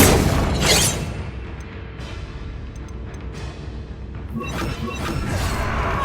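Confringo blasting spell explosions in Hogwarts Legacy, with a few sharp, booming bursts and crashing thuds spread across the clip over a low rumbling bed of combat noise.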